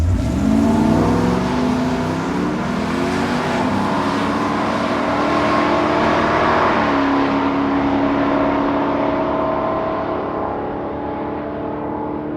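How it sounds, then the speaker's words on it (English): A 1968 Chevy Nova SS and a hopped-up 1969 Camaro race, with loud V8 engines revving and climbing through rising pitch sweeps. The roar stays sustained and close before easing off slightly at the end, with no voices. "Dad drove the 68 Nova, and his son challenged in a hopped-up 69 Camaro."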